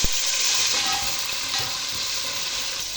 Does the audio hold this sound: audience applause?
no